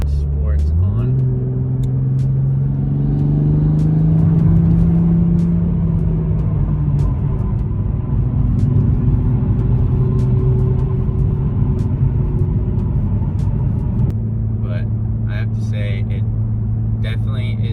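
Car fitted with a JB4 tuner accelerating in sport mode on map 1, the engine note rising steadily as it pulls, a sustained loud rumble from inside the cabin with people talking over it.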